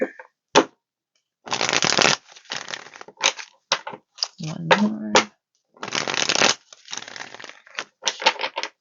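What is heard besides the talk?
shuffling tarot cards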